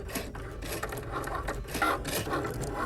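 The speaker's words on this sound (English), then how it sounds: "And it's off to the Cricut." A Cricut cutting machine cuts a design for a personalised Easter tote bag, giving a close, busy run of scraping, rubbing and whirring bursts with short mechanical pauses and no talking.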